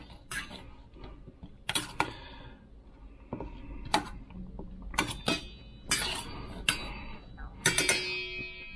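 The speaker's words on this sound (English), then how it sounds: "Grab a couple spoons here. Toss that around in the hot sauce." Spoons clink and scrape against a bowl while tossing fried SPAM nuggets in hot sauce, giving a series of sharp, irregular metallic taps with soft shuffling between, close and fairly quiet.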